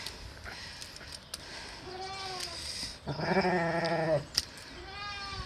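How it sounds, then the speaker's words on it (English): A Valais Blacknose lamb bleats several times nearby in a barn, wavering calls rising in a longer loud cry, set against a faint indoor background. "you can just hear the lamb in there in the barn making a bit of a fuss"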